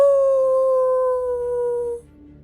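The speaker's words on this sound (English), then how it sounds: "the howl of a wolf" A single wolf howl, long and clear, holds one sustained tone that slowly sinks in pitch before fading out after about two seconds, with no other sounds around it.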